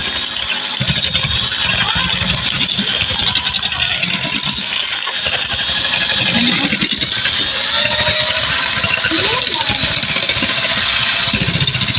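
A homemade ice cream mixer built from a construction power tool runs loud and steady, a continuous buzzing motor drone with rattling, close up throughout with no clear talk.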